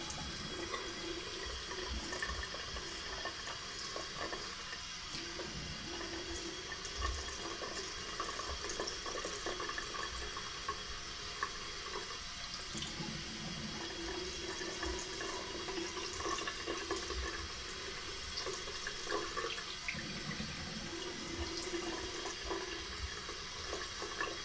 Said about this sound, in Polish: Zimna woda teraz, wręcz lodowata.